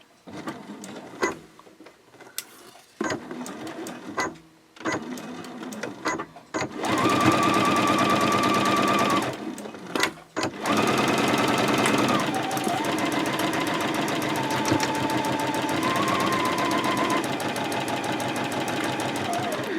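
A sewing machine stitches a mini Christmas stocking at a 2.0 stitch length with a quarter-inch seam, running in long steady bursts after short stop-start taps, close and loud, with brief pauses between runs.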